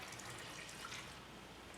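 Lukewarm water pours steadily into a bowl of dry bread ingredients for a no-knead rustic loaf, a soft continuous splashing trickle, close and quiet, with no talk.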